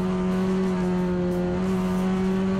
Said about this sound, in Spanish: Y esta es la maniobra a bordo de Rossi.